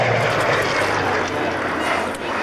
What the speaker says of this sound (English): a formation of Spitfires and Messerschmitts together